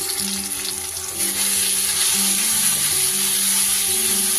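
Chopped medium tomato frying with ginger-garlic masala for a katla fish and taro curry hisses loudly and steadily up close, the sizzle swelling after a moment with no voices.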